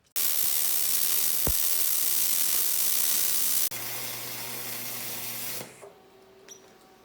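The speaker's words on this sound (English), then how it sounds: "No paint, preheated, ready to weld." Arc welding on preheated, unpainted steel for a shop gantry crane build, a steady loud crackling hiss that runs unbroken for several seconds, drops in level partway through, then cuts off into quiet shop ambience.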